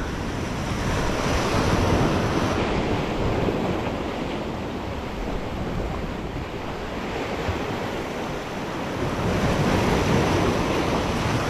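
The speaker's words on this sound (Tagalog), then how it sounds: "Alon." Ocean waves breaking on a Palawan shore in the Philippines, a loud continuous roar of surf with heavy wind buffeting the microphone, swelling and easing over several seconds, with no voices.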